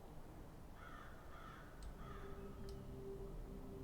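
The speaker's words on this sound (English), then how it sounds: "inhabited by dozens, if not hundreds of crows" Crows caw in the horror video game Saint Kotar, a couple of faint harsh calls over a steady low ambient drone, no talking.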